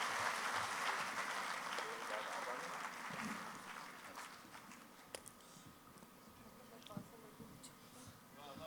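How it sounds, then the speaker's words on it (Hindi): Audience applause at a Bhopal kavi sammelan, a Hindi-Urdu poetry gathering, greeting a poet as he comes on: a faint, steady wash of distant crowd clapping that holds for several seconds and slowly thins out. "एक बार जोरदार तालियों के साथ स्वागत कीजिए हिंदुस्तान के उस मकबूल शायर का"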